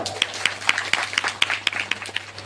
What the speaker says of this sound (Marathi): बाबासाठी एक वेळा जोरदार टाळ्या